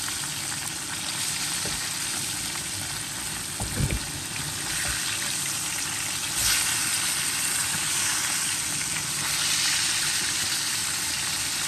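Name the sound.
fish frying in oil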